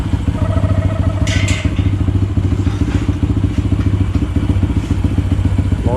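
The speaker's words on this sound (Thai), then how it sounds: "ติดเครื่องครั้งแรกนะตอนนี้" A Honda Wave 125i motorcycle engine, freshly fitted with an aftermarket ECU and run for the first time, idles steadily with a rapid, even low putter, loud and close, with a few light clicks and clatters on top.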